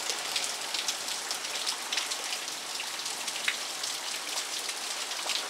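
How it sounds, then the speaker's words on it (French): Rain falls steadily outdoors, soaking everything, a continuous soft hiss of drops with faint patters scattered throughout and no voices. "il s'est remis à pleuvoir"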